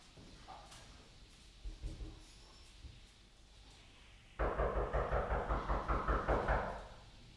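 A run of about a dozen firm knocks on a door, close and loud and evenly paced, starting abruptly after a quieter stretch of faint movement and room sounds in a home with dogs.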